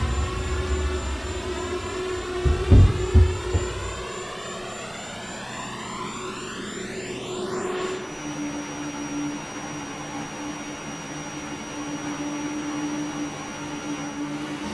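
Airliner jet engines in X-Plane 10 during takeoff and climb, a loud steady roar with a whining tone that sweeps and shifts, plus a brief rumble early on, continuous throughout.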